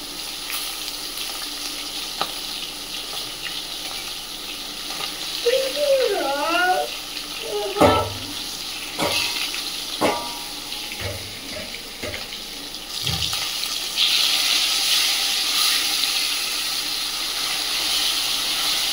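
Fish fry in oil in a home kitchen pan, with fried green chillies set aside, producing an intermittent hiss that grows into a steady, louder sizzle toward the end, with a voice and short bumps heard earlier.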